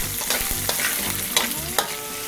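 Garlic and onions are stirred in a pan, sizzling in oil while cooking adobong dila with beef heart; a spoon scrapes and knocks against the pan a few times, close and clear, over a steady frying hiss.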